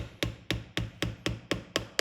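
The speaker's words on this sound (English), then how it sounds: "Just tap it straight through and push it in with the pliers." A small hammer taps track pins into model railway sleepers: eight sharp, close knocks in a steady rhythm of about four per second, with no talking.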